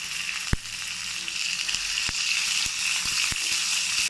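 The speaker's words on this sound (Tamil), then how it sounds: "நல்லா ப்ரௌன் கலர் ஆகிற வரைக்கும் வதக்கி விடுங்க" Chili, coriander and garlic sauté in a pan until browning, a continuous moderate sizzle punctuated by several sharp clicks and taps of a stirring spoon, heard close with no voices.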